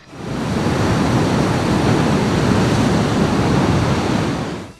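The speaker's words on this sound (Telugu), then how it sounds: "ఎగువ ప్రాంతాల్లో కురిసిన భారీ వర్షాలతో మూసీ నది ఉధృతంగా ప్రవహిస్తోంది" Floodwater released through the opened gates of the Himayat Sagar reservoir rushes into the Musi river in a steady, loud, unbroken roar.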